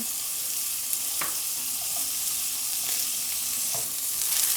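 Asparagus sizzles in a pan alongside tofu with steady crackling and hiss, plus a few sharp clicks of stirring; no voices.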